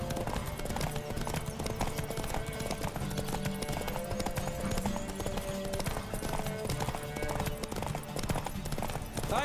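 A horse galloping in The Witcher 3, steady rhythmic hoofbeats running throughout under dense layered game music and ambience, moderately quiet overall.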